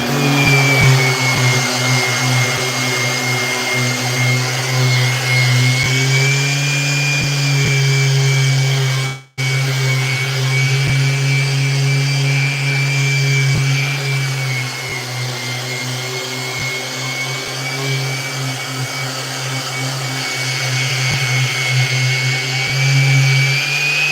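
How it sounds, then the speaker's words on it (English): An orbital sander working over a handmade skateboard deck, a loud steady motor whine with a sustained high tone, running continuously apart from one very brief cutout, close and with no voices. "Orbital is having a moment with me today, eating up these discs really fast."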